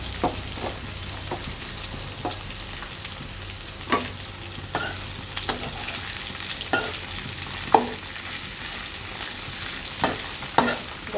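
Cluster beans frying and being stirred in a pan over a high flame, with a steady sizzle and repeated scraping stir strokes, close and continuous, no talk.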